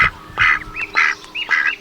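Ducks on a remote New Zealand coastline give three or four loud, close, nasal quacks in quick succession, each a short honking call with brief gaps between them.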